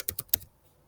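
Three quick taps on a computer keyboard sound close and crisp, then fall into near silence.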